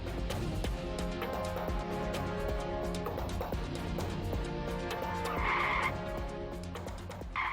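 A car performs a handbrake turn in front of oak trees during a night chase. The tires skid and squeal with a steady engine drone, moderately distant and fairly quiet, and the skid peaks near the end.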